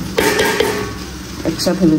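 Rice and vegetables are fried together in a pan, with close, brisk scraping and clattering of a spoon as they are stirred over a soft sizzle.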